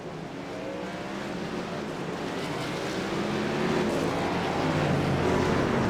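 Race cars circling a track under green flag racing, a steady broad engine roar that swells slightly louder toward the end, several cars blending together at middle distance without talk.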